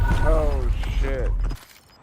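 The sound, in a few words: weapon magazine reload in video game Call of Duty Black Ops 6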